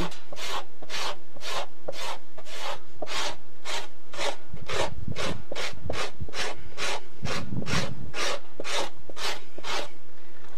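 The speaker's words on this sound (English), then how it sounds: "you can hear that I'm actually doing some scraping, keeping the bottom of my knife clean" A knife scrapes the epidermal layer off an animal hide in about twenty steady, evenly spaced rasping strokes, close and clear with no talk.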